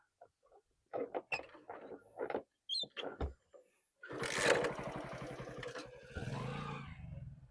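A motorcycle is started and ridden off near a flooded border village by the Sutlej river, its engine catching with a loud burst of dense putt-putt firing that holds steady and close, following earlier short bursts of activity.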